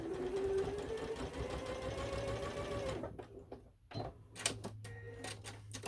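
A sewing machine stitches a seam on a fabric pumpkin, running steadily and loud for about three seconds, then stopping and restarting in a few short bursts.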